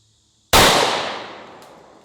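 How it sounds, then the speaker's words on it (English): A single loud, close gunshot from a Glock 23 pistol fitted with a conversion barrel and firing 357 SIG, with a sharp crack that decays over about a second and a half into a ringing tail. "the 357 SIG out of the Glock 23 with the conversion barrel. This is probably the loudest pistol I own"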